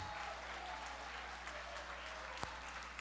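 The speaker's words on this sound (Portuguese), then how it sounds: "Vamos aplaudir Jesus" A church congregation at a deliverance service claps steadily, a faint, even patter of applause over a low hum, with one sharper clap standing out.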